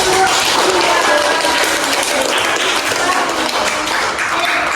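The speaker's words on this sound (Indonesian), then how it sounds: "Oke, tepuk tangan dulu." A group of participants in a teacher-training class applauds after a recipe presentation. Continuous, fairly loud clapping fills the room for several seconds, with faint voices mixed in.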